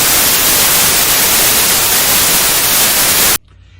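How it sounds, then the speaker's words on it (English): A loud, steady white noise test signal for tinnitus hisses evenly for over three seconds, then cuts off abruptly into near silence. "Here's white noise for you."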